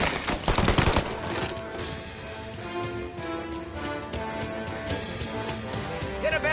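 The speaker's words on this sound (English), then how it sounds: "Gunshots heard." Gunfire in the video game Mafia, a burst of loud rapid shots at the start followed by scattered shots over busy game sound effects and music.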